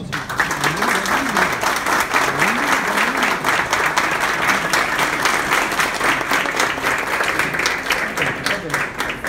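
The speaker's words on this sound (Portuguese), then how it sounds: "Pessoal, por favor, uma salva de palmas." An audience applauds at the end of a miniature-painting talk at the Diversão Offline 2018 event, giving steady, dense clapping that continues at full strength for the whole stretch.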